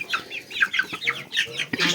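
Chickens clucking close by in a rapid, busy series of short calls, with some flapping and scratching around them.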